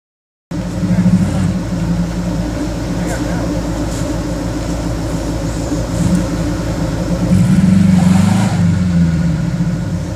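A Jeep engine rumbles loudly at close range as it works through an off-road obstacle, surging toward the end. People talk over the engine throughout.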